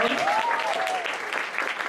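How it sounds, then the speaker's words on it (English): An audience at a school climate evening breaks into applause, a dense steady clatter of many hands. A faint whistle-like tone rises and falls early on, and the clapping keeps up at an even level without fading. "round of applause."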